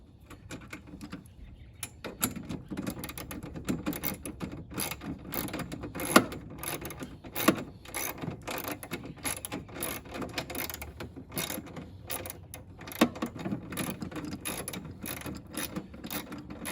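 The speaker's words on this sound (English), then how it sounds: "let's tighten up the other side now" A ratchet clicks in rapid bursts while tightening three screws on a Toro CCR2400e snowblower, with sharp close metallic ticks and short pauses between the runs of turns.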